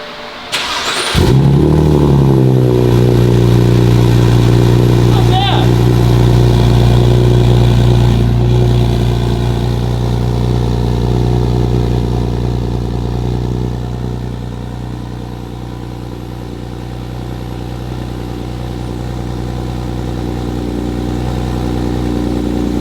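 A BMW E9X 328 fires up from cold: a brief starter crank, then a loud, steady high idle that settles slightly lower toward the end, running alone and close by.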